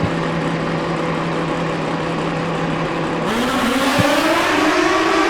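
Drag racing motorcycles at the Mancup World Finals launch off the line, a loud sustained engine roar with a steady tone that jumps and climbs in pitch as the bikes accelerate away.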